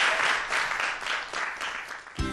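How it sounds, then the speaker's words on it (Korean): An audience applauds the vice president of a battery company after a science talk on secondary batteries, a full steady round of clapping that stops abruptly just before the end. "우리 정도영 부사장님께 여러분들 큰 박수 부탁드리겠습니다"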